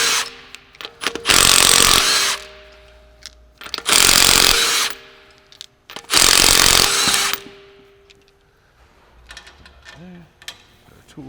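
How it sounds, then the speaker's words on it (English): An impact gun removes wheel bolts in three loud, close bursts of roughly a second each, separated by quieter pauses with faint handling noise. "getting our impact gun and removing the bolts"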